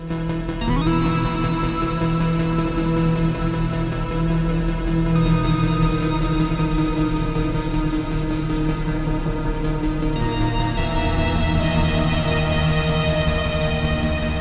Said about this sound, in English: The first one being this lovely reverb.